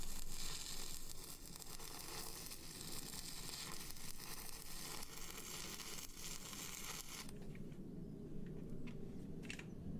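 Stick welding during a crusher repair gives a steady, close crackling sizzle for about seven seconds, then cuts out, leaving a quieter hum with a few faint clicks, with no talk.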